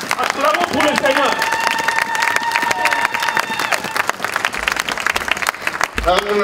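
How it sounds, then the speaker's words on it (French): Church congregation in London clapping and cheering in praise, a dense sustained wash of applause with voices and a sung tone over it, continuous and fairly loud throughout. "Acclamons pour le Seigneur."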